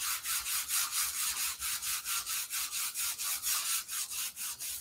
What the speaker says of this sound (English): Scratching every little part of it that I can.